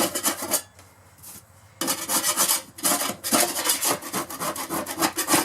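Hand sanding scrapes across the walls of a 1974 Silver Streak travel trailer in quick, rasping back-and-forth strokes, close and loud, with a short quieter pause before the rhythm resumes.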